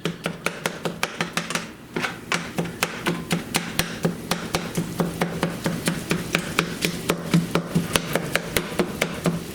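Rapid, regular chopping taps of a utensil breaking up ground meat in a frying pan, dozens of sharp hits in a steady rhythm over faint sizzling.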